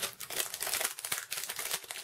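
A plastic packaging bag crinkles and rustles continuously while a spiral airbrush hose is unwrapped, close and fairly soft, with irregular bursts of crackling.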